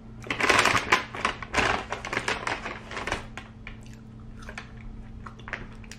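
Popeyes Cajun fries, slightly soggy, are chewed close to the mic with soft crunchy, squishy bites that come rapidly at first and then grow quieter and more spaced out.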